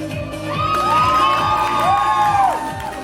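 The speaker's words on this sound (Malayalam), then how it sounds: "കൈയടിക്കൂ" Wedding guests at a Kerala nikkah cheer and shout excitedly, children's voices rising above the crowd in a loud, sustained burst with whoops sweeping up and down.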